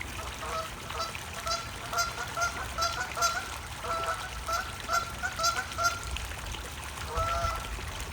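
Ducks or geese at a pond giving repeated nasal honks in uneven bursts, fairly faint over a low background of trickling water.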